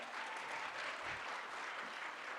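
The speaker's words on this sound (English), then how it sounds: "Let's give her another round of applause." Audience applause at a girls' STEM keynote and panel event, a continuous even wash of many hands clapping, steady and fairly distant, with no voices over it.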